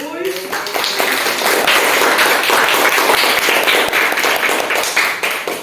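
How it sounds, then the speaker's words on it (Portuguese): Audience applause at an Easter religious talk: a dense, steady wash of clapping fills most of the clip at close, even loudness, with scattered sharper claps standing out. "Então dê um aplauso para Jesus."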